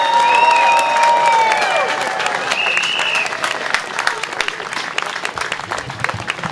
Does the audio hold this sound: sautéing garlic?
no